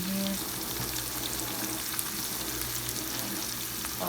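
Onions fry in a pan as flour is stirred in for gravy, a steady loud sizzle with faint scraping of stirring, close and alone.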